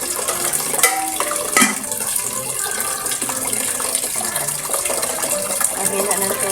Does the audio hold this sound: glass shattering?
no